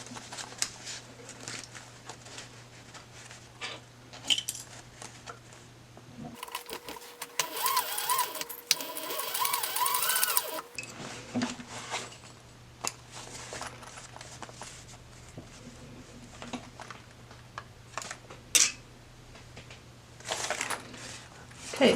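A sewing machine stitches bag bottoms in bursts of rapid, rhythmic needle clatter, close by, with a loud continuous run in the middle and shorter runs and handling noises around it.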